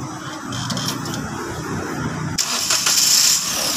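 A Toyota Wigo engine cranks and catches during a car check-up, a brief starter whir followed by the steady idle of the small engine, close and fairly loud with no talk over it.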